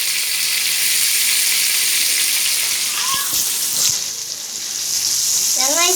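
Whole cinnamon, cloves, star anise and bay leaf sizzling in hot oil in a pressure cooker, a loud steady close hiss with a couple of brief voice sounds over it.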